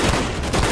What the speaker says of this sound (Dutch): Ik kan ook raak schieten, hoor.